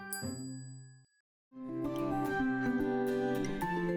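A bright chime rings out and fades, breaks off into a short silence, then a cluster of tinkling bell tones follows, clear and fairly close.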